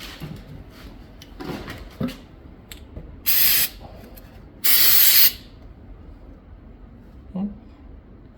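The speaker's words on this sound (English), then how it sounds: "do a little test spray." Two short bursts of aerosol spray hissing loudly, the second a bit longer, test-sprayed before coating a Ram 4WD actuator, amid quiet handling clicks and rustles; no speech.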